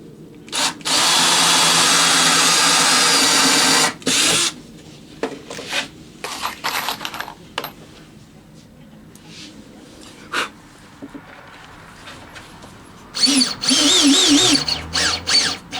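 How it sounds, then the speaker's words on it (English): A power drill drives deck screws into plywood in loud, close bursts: one long run lasting several seconds, then a later shorter one, with clatter and handling knocks between and a brief voice near the end. "Let me get some deck screws and quickly put this all together."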